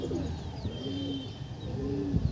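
Pigeons coo inside a loft, soft, low rolling calls repeating close by against a murmuring background, with no talk.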